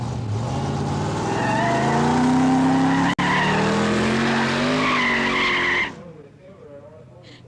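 Hot rod cars at Oran Park raceway, with a loud, sustained tire squeal and engine roar that ends abruptly and leaves quieter background noise.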